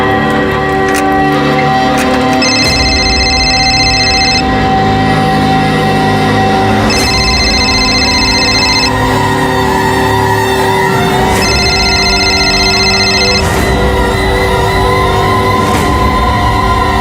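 A telephone rings unanswered indoors in a home, the tone coming in three separated bursts over a steady background bed of music.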